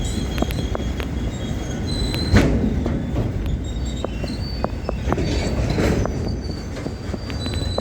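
An Australian freight train with hopper wagons rolls slowly through a steelworks yard, steady heavy rumble with wheel squeals, clicks and clanks close by, and no talking.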